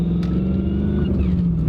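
A 2011 Mustang GT with an On3 twin turbo kit, HPP tune and Airlift suspension drives along, its engine a steady, close, loud drone that stays even throughout with no talking.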